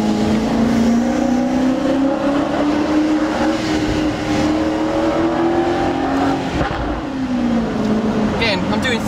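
A Jaguar XKR with a Spires Stage 3 exhaust drones steadily as it drives, engine pitch sagging and then rising again, with a few sharp cracks near the end.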